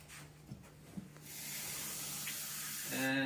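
Tap water running into a container at a kitchen sink, a steady broadband rush that starts about a third of the way in and stays even and close, with a few faint knocks before it begins.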